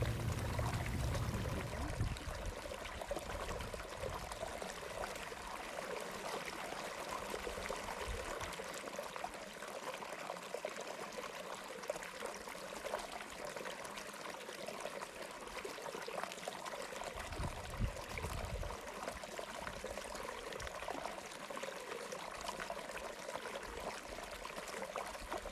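Sullivan's Creek flows through Ngunawal Country, giving a soft, steady trickle and babble of moving water that continues evenly throughout with no voices.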